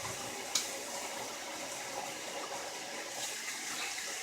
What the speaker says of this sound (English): now let me just wash my hands